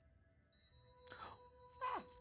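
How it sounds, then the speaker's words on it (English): A phone rings with a bright electronic tone, two chirping pulses over a steady high hum, fairly faint. "Why is my phone ringing?"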